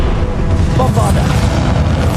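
A Bombarda blasting spell in the Hogwarts Legacy game goes off as a loud, sustained rumbling boom that fills the whole moment, with a voice faintly mixed in beneath the roar.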